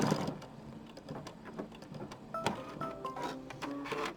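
Embroidery machine stitching raw-edge applique for a haunted-house design, a steady mechanical chatter of rapid needle strikes with clicking and whirring, close and fairly quiet, no talking.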